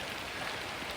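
Steady rain hissing down in a dense, even wash with no breaks, loud and close.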